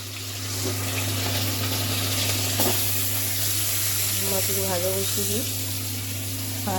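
Fish frying in hot oil sizzles steadily with a constant crackling hiss, while a voice speaks over it near the end.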